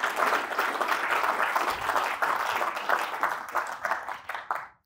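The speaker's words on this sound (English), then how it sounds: "big, huge round of applause for you guys" Sustained audience applause fills a live talk event, a dense steady wash of clapping from a sizeable crowd that holds loud for several seconds before tapering off at the very end.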